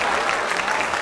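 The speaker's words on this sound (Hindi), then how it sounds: "तालियां।" A brief burst of dense clapping from a crowd celebrating at a visa party in the Bollywood movie Guddu Rangeela, steady and close throughout.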